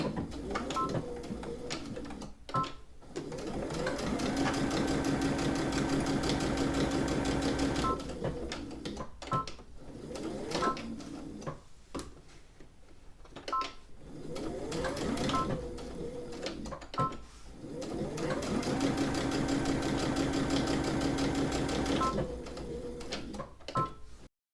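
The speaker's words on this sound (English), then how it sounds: "I'm just going to sew this down." A domestic sewing machine stitches down a folded fabric hem on a lined drawstring bag, running in steady bursts of a few seconds with short pauses between them, its needle whirring close and clear with no talking.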